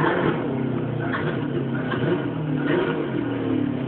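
Car engine in the DiRT 3 racing game revving and accelerating, a steady mid-range engine drone with rising pitch swells, continuous and fairly loud throughout.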